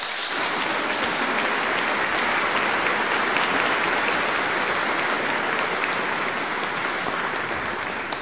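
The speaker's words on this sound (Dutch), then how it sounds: "dan geven jullie een heel hartelijk applaus" An audience at a benefit concert for Malawi in a church in Kampen claps warmly and continuously, a thick, even wash of applause with no break and no voices.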